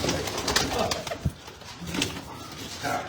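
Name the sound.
pigeons cooing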